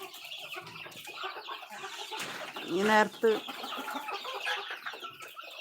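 Chickens in a backyard coop cluck and squawk in a loud burst near the middle, with someone talking over and around them.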